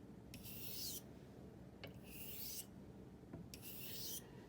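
A Sistrum knife edge is honed with three separate strokes, each a short, close, raspy rub about a second long, with quiet pauses between them.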